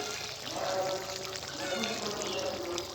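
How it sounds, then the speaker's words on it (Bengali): Fish broth is poured into a wax gourd curry with mirka fish, a steady liquid pour and trickle running close and moderately loud for the whole stretch, with no talking. "ঝোলটা আমি এখন মাছের ঝোলটা দিয়ে দেবো"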